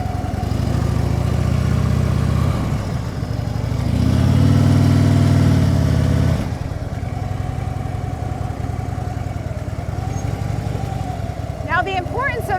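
A motorcycle rides out during slow-speed U-turn practice and comes to a stop, its mid-pitched engine droning steadily, swelling briefly as it pulls away and then settling to a lower idle while someone talks over it.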